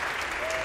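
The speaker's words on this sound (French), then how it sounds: "Applaudissements pour ces deux jeunes filles." A television studio audience claps for two young women, a dense burst of steady applause filling the whole short moment.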